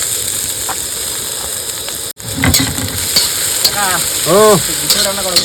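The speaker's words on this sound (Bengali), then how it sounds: "তেল কিন্তু গরম হয়ে গেছে এবার দিয়ে দেবো পেঁয়াজ এবার দিয়ে দেবো আদা" Onion and ginger hit hot oil and sizzle loudly, a dense, steady frying hiss with stirring scrapes throughout, set in an outdoor kitchen on a boat in the Sundarbans; a short voice-like tone rises briefly near the end.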